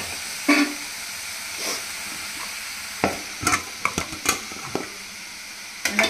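Manchurian mixture of shredded cabbage, carrot, beans, green chilli and ginger-garlic paste fries in a pan over high flame, a steady hiss broken by several sharp stirring scrapes and clatters, close and moderately loud with no talking.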